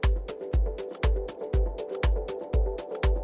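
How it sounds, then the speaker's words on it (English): A produced drum groove with kicks on a steady beat every half second, hi-hat and snare hits, and a sustained melodic synth layer underneath, played loud and clean with no voices. "Now I have a drum groove and something melodic to spark the emotion"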